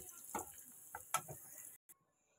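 Dal fries in oil in a pan, giving a faint, steady sizzling hiss with a few soft stirring ticks, and a short quiet gap near the end.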